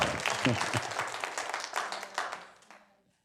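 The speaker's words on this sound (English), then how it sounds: "Yes, you can applaud again." Applause from an audience, dense and steady at first, then thinning out and fading to silence near the end.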